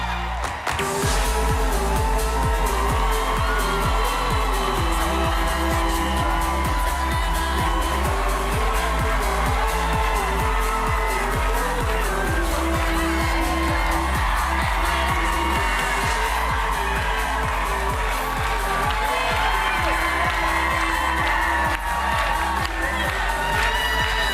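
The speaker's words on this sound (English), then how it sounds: "Wow, a lively crowd." Studio audience on The View cheering and applauding loudly and continuously, a dense roar of whoops, shouts and clapping that carries on throughout with accompanying music underneath.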